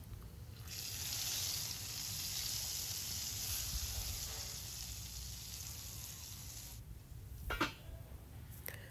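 Hot tempering oil with asafoetida for bathua kadhi gives a steady bright sizzle, hissing for several seconds, then cuts off, followed by a brief clatter.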